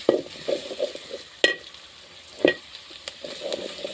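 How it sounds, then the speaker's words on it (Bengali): Onions and green chillies fry on a clay stove, a steady soft sizzle broken by a few sharp clinks and scrapes of stirring, close and alone with no voices. "এবার এগুলো পেঁয়াজ মরিচ ভালো করে বেজে নেব"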